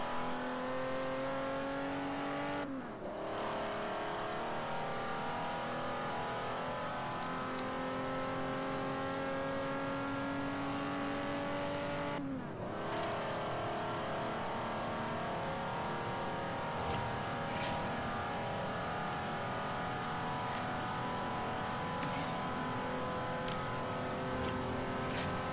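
A car engine in the Forza Horizon racing game revs hard as the car accelerates, climbing in pitch, dropping sharply at two gear shifts, then holding a steady high drone, with no talk over it.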